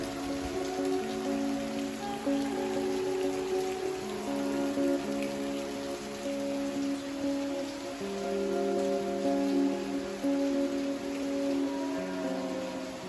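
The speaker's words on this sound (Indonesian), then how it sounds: "Kita nunggu hujan reda" Steady rain falls on an island, a constant dense patter on surfaces that keeps going without a break. No voices can be heard.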